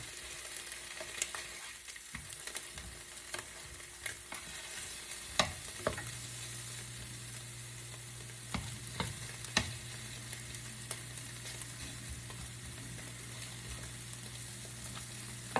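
Food frying without any oil in a non-stick frying pan, a quiet, even sizzle broken by scattered crisp ticks and spatters, close and alone with no voices.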